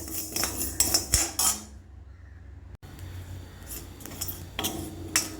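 Dry rice grains rattle and scrape in a metal pan as a spoon stirs them while roasting, with sharp clinks early on, then a quieter stretch of soft scraping.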